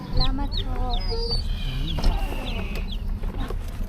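Chickens clucking at a local market near Boracay in the Philippines, a steady run of short bird calls among crowd noise and a faint voice.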